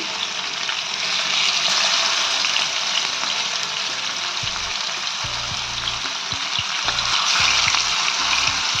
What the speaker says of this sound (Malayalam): ചെറു തീയിൽ വെച്ചിട്ട് നമുക്ക് ഫ്രൈ ചെയ്തെടുക്കാം.